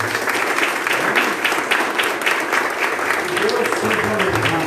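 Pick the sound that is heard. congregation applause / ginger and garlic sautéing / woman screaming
congregation applause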